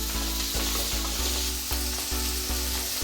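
Small onions sautéing in a pan for a Kongunadu chicken chintamani, a loud steady sizzle broken by regular scraping strokes of a spatula stirring them.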